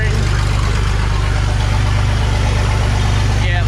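A lifted Corvette's engine idles loud and close, with a steady low throbbing rumble that holds an even pulse throughout without revving.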